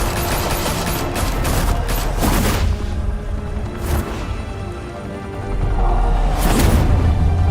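Loud, sustained bursts of automatic gunfire in the Batman: The Telltale Series video game, rattling almost continuously with heavy booming swells and no voices over it.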